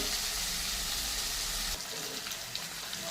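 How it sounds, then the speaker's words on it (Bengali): Thinly sliced potatoes fry in a pan with a soft, continuous sizzling hiss that stays faint and close, thinning slightly partway through. "এখন আলু কাটাকে আমি ভেজে নেব।"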